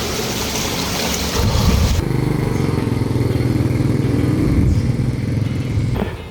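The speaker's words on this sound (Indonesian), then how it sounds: "Barusan ada motor lewat lur, jadi harus minggir ya" A motorcycle passes close by on a narrow, bumpy road through a mountain village near Gunung Puntang, its loud, steady engine drone filling the whole stretch and dropping slightly as it goes by.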